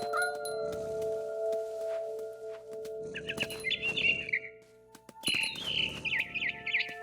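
Birds chirp in What Remains of Edith Finch, with bright tweets in separate bursts over a steady tonal hum of game ambience; no one speaks.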